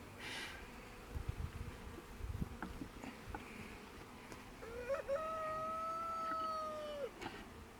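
Honey bees buzzing around a newly installed package being hived into an English garden hive, a soft, steady hum with passing nearby buzzes, one drawn-out tonal whine near the end.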